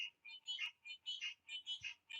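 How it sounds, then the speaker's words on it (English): Frogs calling in a rapid chorus of repeated bursts, fairly faint and steady with no talking over them. "You hear the fucking frogs?"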